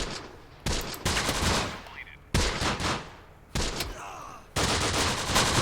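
Machine-gun fire from an Italian Bersaglieri MG squad in the Close Combat video game, assaulting a desert stronghold: four loud, sharp bursts of rapid shots, each cutting in abruptly and rattling on at close range.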